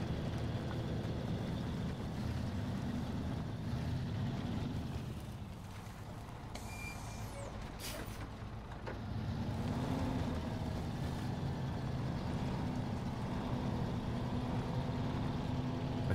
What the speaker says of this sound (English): But they all sound like trucks to me.